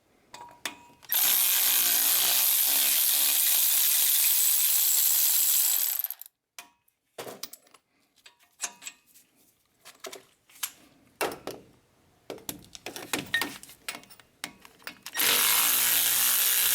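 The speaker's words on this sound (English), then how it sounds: "So now we're gonna use our electric ratchet to remove the bolt." Electric ratchet removing hub assembly bolts on a Chevrolet Silverado, a loud continuous buzzing whir for several seconds, then scattered clicks and clanks of handling, then another long whir at the end.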